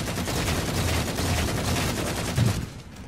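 Rapid gunfire in the Halo 4 video game during a free-for-all multiplayer match, dense continuous shooting bursts that stop abruptly near the end.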